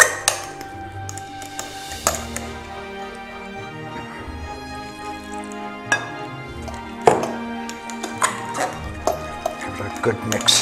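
Mashed potatoes being stirred in a pot with a milk and cream mix, a series of irregular knocks, clinks and thick squelchy scrapes of a utensil against the pot, close by, with someone talking over them.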